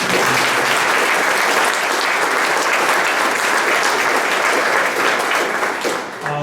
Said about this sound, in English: If we could give a quick round of applause.